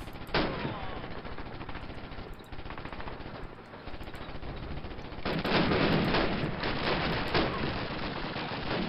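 Video game gunfire from Call of Duty: United Offensive during a town assault, with dense, rapid rifle and machine-gun bursts rattling continuously, growing louder and busier partway through.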